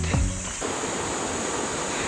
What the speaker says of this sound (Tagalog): Mukhang may naririnig na akong falls sa malapit.